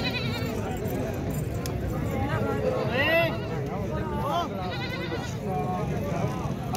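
A big, heavyweight Nagra breeder billy goat with six teeth bleats several times, loud and close, over steady crowd chatter and background noise.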